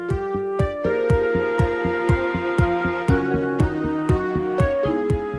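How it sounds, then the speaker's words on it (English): A heat sealing machine on a peanut butter jar line seals caps onto the jars, giving off steady, evenly spaced mechanical thumps over a constant tonal hum, close and loud. "As the caps pass through a heat machine, the seal drops down and adheres to the top of the jar, creating an airtight seal."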